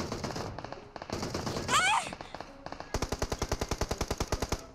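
Gunfire in PUBG Mobile, with scattered shots giving way to a long, rapid automatic burst of evenly spaced, loud cracks, and a brief electronic warble midway.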